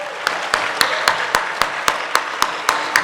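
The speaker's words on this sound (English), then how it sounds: "giving another round of applause for the scholars that spoke earlier" Applause at an awards dinner, with one nearby pair of hands clapping in a steady, even beat over a softer spread of crowd clapping.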